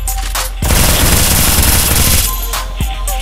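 Sustained gunfire from a battle royale video game, a dense, loud burst of rapid shots running for about two seconds with a shorter crack afterward, no speech over it.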